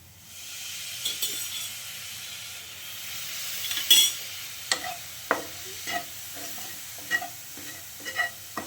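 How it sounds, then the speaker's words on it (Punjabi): Spices roast in a pan for an oil-free vegetable tempering while a spoon stirs them, giving a soft steady sizzle and hiss with intermittent scraping clinks of the spoon, close but quiet, with no talk. "ਮਸਾਲਿਆਂ ਨੂੰ ਆਪਾਂ ਇਸ ਤਰੀਕੇ ਨਾਲ ਹਿਲਾਉਂਦੇ ਰਵਾਂਗੇ ਤੇ ਮਸਾਲਿਆਂ ਨੂੰ ਆਪਾਂ ਬਿਲਕੁਲ ਵੀ ਕੱਚਾ ਨਹੀਂ ਰਹਿਣ ਦੇਣਾ"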